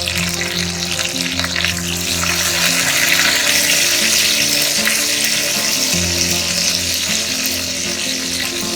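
Curry leaves sizzling in hot oil with spluttering mustard and fennel seeds while making Indori poha, a loud continuous crackling fry with a steady low hum underneath throughout.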